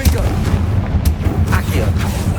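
Repeated spell blasts in Hogwarts Legacy, the Confringo explosive spell, firing as sharp bursts over a steady low rumble of combat, one strong crack near the middle followed by more hits.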